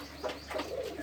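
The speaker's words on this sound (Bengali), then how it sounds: "এই কবুতরগুলোও ঘরোয়া পরিবেশে পালন করা হয়।" Domestic pigeons kept in a home setting giving a brief, soft cooing burst of two or three low warbling notes, faint and close.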